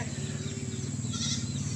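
A goat on a farm gives a single drawn-out, close bleat that carries through the whole short stretch, loud and alone with no voices.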